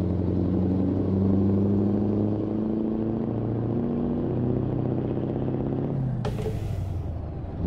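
A Scania 124G truck engine drones loudly and steadily in Euro Truck Simulator 2, its pitch stepping up and down through gear shifts, with a short airy burst near the end.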